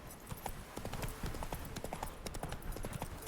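Geralt's horse Roach clip-clops along in Witcher 3 Remastered on PS5, its hooves striking in a steady, close rhythm for a few seconds over ambient game sound.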